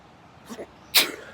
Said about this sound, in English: Gotta sneeze. There we go.